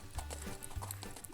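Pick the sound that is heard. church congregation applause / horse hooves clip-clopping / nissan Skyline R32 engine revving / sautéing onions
horse hooves clip-clopping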